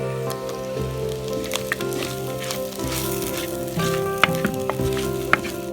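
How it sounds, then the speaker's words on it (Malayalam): Mutton fry sizzling steadily in a pan, a close, continuous crackle and hiss with occasional sharper pops as the meat is stirred. "ഇപ്പം നമ്മുടെ മട്ടൻ നല്ല ഉലർത്തായിരിക്കുകയാണ്"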